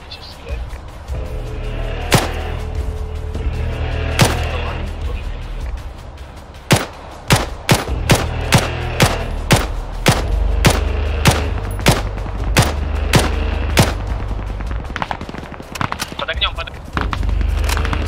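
Repeated gunshots from friendly fire in a video game, single loud reports at irregular intervals, some in quick runs, over a steady low rumble, with occasional talk.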